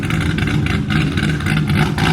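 Loud vehicle engine idling steadily and close, a dense constant rumble with slight pulsing and no talk.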